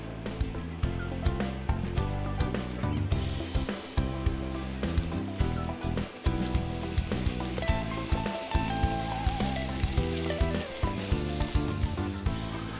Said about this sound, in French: on va les mettre gentiment à cuire. À feu pas trop violent.